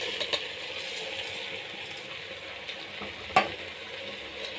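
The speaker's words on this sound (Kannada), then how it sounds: "ಸ್ವಲ್ಪ ಹೀಗೆ ಫ್ರೈ ಮಾಡೋಣ." Washed rice frying in a pan for a capsicum and potato bath, a faint, steady sizzle with occasional scraping stirs and a brief clink.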